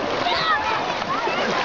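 A child swimming in a lake churns up continuous splashing and sloshing water close by, while a voice talks over it.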